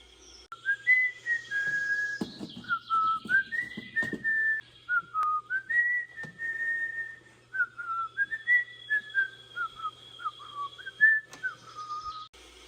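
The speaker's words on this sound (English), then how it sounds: "He was whistling to himself, "Come lasses and lads."" A man whistles a lilting melody alone, clear and close, phrase after phrase with short pauses between.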